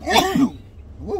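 One sharp sneeze bursts out close to the microphone, followed a moment later by a short voiced exclamation.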